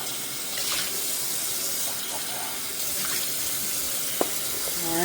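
Water rinses through a potted Miltoniopsis orchid, a steady close splashing flow running the whole time, with a brief clunk near the end.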